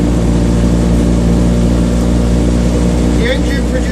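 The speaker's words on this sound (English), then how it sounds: "The engine produces about 44 brake horsepower" A Citroen 2CV race car engine of about 44 horsepower drones loud and steady from inside the car on the road, a constant low buzzing hum with no words spoken.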